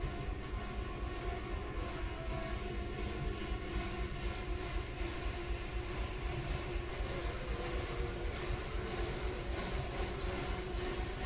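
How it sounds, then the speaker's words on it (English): Steady rain falling in the horror video game The Park, a dense continuous hiss and patter running unbroken for the whole stretch with a low rumbling undertone, no voices. "I don't even want to know how it's raining."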